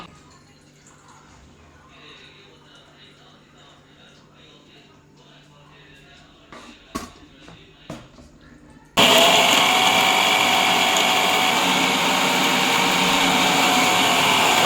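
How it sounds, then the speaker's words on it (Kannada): An electric mixer grinder grinding masala roars to life after several seconds of quiet kitchen handling and clinks, then runs loud and steady to the end. "ಈಗ ಮಿಕ್ಸಿ ಮಾಡೋಣ."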